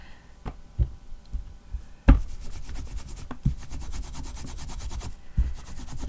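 A microfiber cleaning cloth rubs over a craft stencil in a rapid back-and-forth pattern, producing soft, close scrubbing and brushing strokes broken by a few light knocks and taps.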